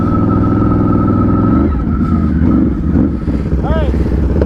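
Two ATVs, a Raptor 700 and a Renegade 1000, launch together in a drag race. Loud engines roar and rev up hard right from the start, with shouting over the noise.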